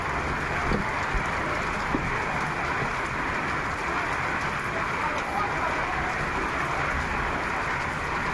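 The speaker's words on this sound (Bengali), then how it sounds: "তো অলরেডি অনেক জোরে বৃষ্টি নামছে" Heavy rain pours down in Dhaka as a steady, dense roar, unbroken from start to finish.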